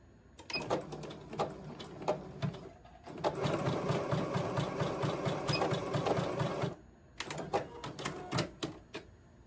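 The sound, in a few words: sewing machine stitching clothes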